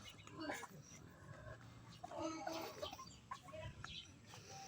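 Chickens on a Mindanao farm cluck and chatter faintly in scattered short bursts, quiet and somewhat distant over soft background noise.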